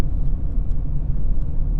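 Peugeot 208 Like 1.6 (2022) with manual gearbox pulling hard in fourth gear, a steady low engine drone and road rumble from inside the cabin, strained and continuous without any gear change.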